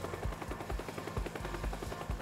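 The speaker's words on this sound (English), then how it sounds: "Helicopter, wait, no, it's over there." A helicopter in the game Teardown gives a quick rhythmic thumping of rotor blades, with steady low pulses repeating about four times a second at moderate distance and no talking.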